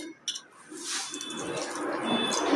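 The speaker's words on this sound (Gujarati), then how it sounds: "હવે આપણે આમાં પાણી ઉમેરશું" Water splashes and runs steadily into a bowl of scooped-out bael fruit pulp, a continuous close trickling that builds slightly over a few seconds.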